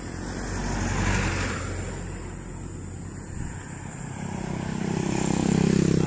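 Steady nearby traffic rumbles along a road in Cabuyao, Laguna, as cars and motorcycles go by, a low engine roar rising and falling with a louder vehicle approaching at the end.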